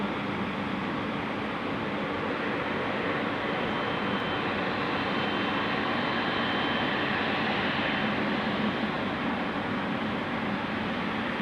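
A large airliner taxis onto the international apron at Sydney Airport's T1, producing a steady broadband engine roar and whine that holds level throughout without speech.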